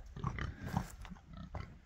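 Pigs in a muddy farm yard give repeated grunts and oinks at close range, several overlapping in a steady uneven rhythm, with no talk.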